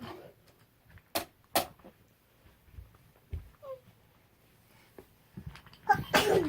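A couple of sharp, sudden sneeze-like bursts amid quiet room noise and scattered small sounds, followed by louder rustling at the end.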